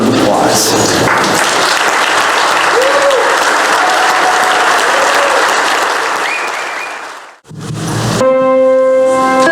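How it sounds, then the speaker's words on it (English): Sustained applause from a large crowd fills the room, steady and loud, fading briefly before a bright chiming tone rings out over renewed clapping. "let's give them a round of applause"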